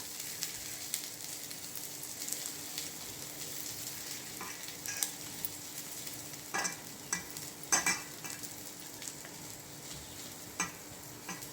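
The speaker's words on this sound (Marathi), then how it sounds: "छान असे पॅटीस हे तव्यावरती तयार होत आहेत, बघू शकता." Potato and poha patties sizzle on a hot griddle, a steady faint frying hiss broken by occasional scraping and clinks of a spatula.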